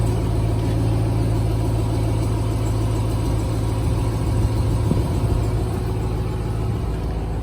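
A 2021 Ram TRX pickup with a 702 hp engine idles nearby, a steady, loud, deep rumble that holds even throughout with no revving.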